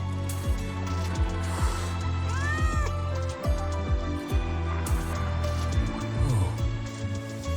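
A frightened cat in the Wuthering Waves video game meows repeatedly and plaintively, close and clear over a steady low musical drone, with several distinct cries in a row.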